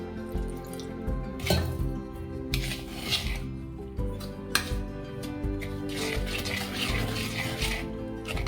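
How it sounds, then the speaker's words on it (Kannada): Water trickles and drips into a bowl of ragi dosa batter, with close wet splashes and scraping stirs running steadily throughout, no voices. "ಇವಾಗ ನಾನು ನೀರು ಹಾಕೋತಾ ಇದ್ದೀನಿ"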